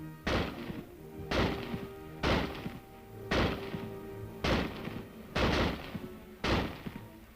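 Seven loud M-1 rifle shots fired at a target, evenly spaced about a second apart, each a sharp crack followed by a short ringing echo.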